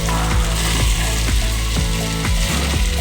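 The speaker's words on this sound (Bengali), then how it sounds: "দিয়ে আবার কিছুক্ষণ কষিয়ে নেব" Masala with chilli powder frying in a pan for a fish curry, a steady close sizzle with soft rhythmic stirring scrapes repeating every half second or so, no talk.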